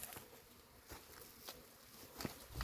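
Honey bees buzz softly while a swarm is being hived into a box with wax-foundation frames, a faint steady insect hum with a few light taps and rustles, no talking.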